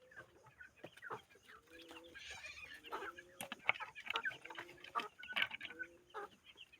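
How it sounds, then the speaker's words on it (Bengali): Broiler chickens on a farm in hot weather, heard as soft overlapping clucks and short calls from a nearby flock, a steady murmur of bird sounds with a few louder squawks and no talking. "দেখেন গরমে কী করতেছে, এগুলো গরমে এগুলো হাঁপাইতেছে"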